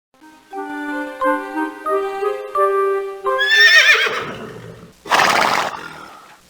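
A horse in the PC game Nikolai's Mysteries gives a loud, shrill neigh and then a second short whinny burst, following a few plucked musical notes.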